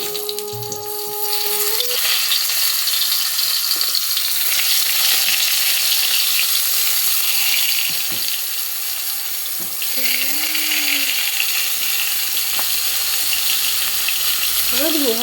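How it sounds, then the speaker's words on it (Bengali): Eggplant frying in a pan, a loud, unbroken hissing sizzle lasting throughout, with a few faint tonal sounds and brief knocks in the background. "আর এদিকে আমি বেগুন একটু ভেজে নেব"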